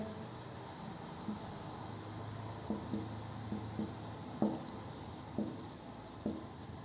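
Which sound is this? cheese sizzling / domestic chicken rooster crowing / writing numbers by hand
writing numbers by hand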